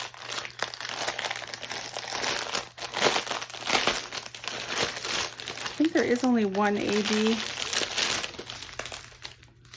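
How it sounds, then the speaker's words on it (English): Plastic packaging crinkles and crackles as a Scardy Cats toy from DAC is unboxed, with a person talking over the rustling throughout. "A little bit of crinkling noise here."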